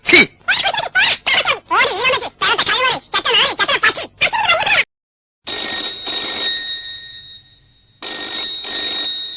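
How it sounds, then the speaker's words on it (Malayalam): A telephone rings in two long electronic bursts near the end, after a rapid stretch of animated talking; a short silence separates the voice from the ringing. "മിസ്റ്റർ വിൽബ്രഡ് ഡിസൂസ, ഫോൺ എടുക്ക്."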